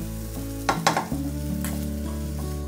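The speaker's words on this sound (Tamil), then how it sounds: "இன்னும் ஒரு 2 நிமிஷம் இப்படியே கிளறிக்கோங்க கைவிடாமல். இல்லாட்டி வெங்காயம் எரிஞ்சு போயிடும்." Prawns and onions fry in hot oil in a pan and get stirred, giving a steady close sizzle with a few clattering scrapes of the spoon partway through.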